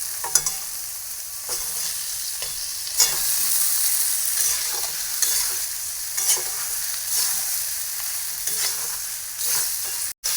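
Chicken pieces fry and sizzle in a pot for home-made chicken biryani, a steady loud hiss broken by the scrape and clatter of stirring at irregular intervals.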